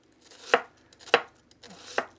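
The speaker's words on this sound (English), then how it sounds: "I think I'm going to add a little bit more onion. So let's slice some more." A knife slices thin pieces of red onion for an Italian salami and chickpea chopped salad, giving three sharp, evenly spaced chops close by against a quiet kitchen.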